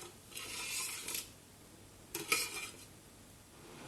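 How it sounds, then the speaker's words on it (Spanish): A spoon scraping and stirring sugar syrup in a pot, two short bursts of metallic rubbing separated by a pause, quiet and close with no voices. "Vamos a remover un poquito para que se vaya deshaciendo el azúcar."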